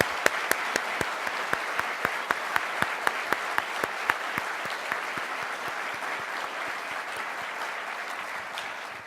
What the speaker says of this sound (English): let's give all of our brave soldiers a round of applause